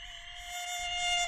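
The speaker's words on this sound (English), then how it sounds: "A small housefly has fallen into his clutches." A small housefly buzzes steadily and close by, its high harmonic whine holding and slightly swelling over about a second, with no voices.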